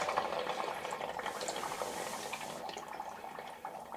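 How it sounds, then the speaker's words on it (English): Shower running inside a cabin being winterized, a steady broadband hiss of spraying water that stays fairly constant and close for the whole stretch, with no talking. "shower on."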